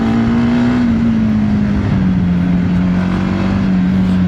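A TVS Apache RTX 300 adventure motorcycle's engine heard while riding, a loud, steady drone holding one pitch that sags slightly as it cruises, with wind rush underneath.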